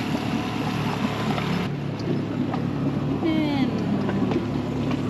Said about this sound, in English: So we're going to hop in the dinghy.